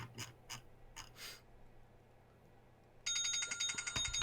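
A real landline telephone bell rings out in a fast metallic trill, close and loud, following several short ticking clicks in a quiet room.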